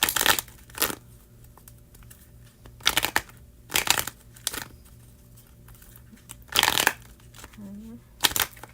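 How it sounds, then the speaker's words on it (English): Tarot cards handled during a live reading, with sharp bursts of shuffling and riffling at uneven intervals, close and loud against a quiet background, and someone speaking in between. "We need 5 cards for Lyanne, please."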